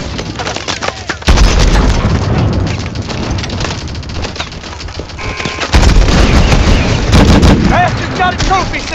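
Rocket launcher fire and explosions against a Titan in Call of Duty: Advanced Warfare, heavy booming blasts and gunfire, loud and dense throughout, with two sharp jumps in intensity, mixed with game speech.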